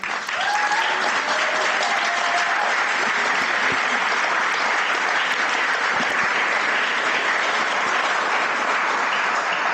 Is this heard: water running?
no